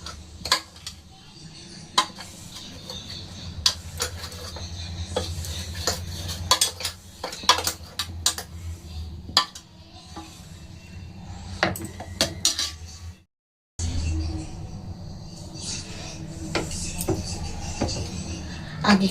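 Ingredients, including slightly creamy milk, being mixed in a bowl for a homemade sweet, with repeated clinks and scrapes of a utensil against the dish and a brief pause near the end.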